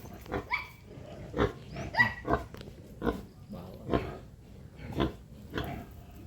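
A large boar grunts repeatedly in a farm pen, a series of short, rough, low snorts at an irregular pace, close and moderately loud, with no talk.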